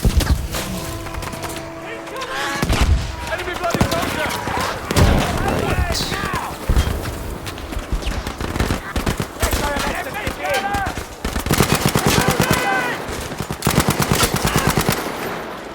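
Rapid automatic gunfire and scattered shots in the video game Battlefield 5, loud bursts of machine-gun fire with booms and thuds, dense and nearly continuous, with someone speaking intermittently over the battle.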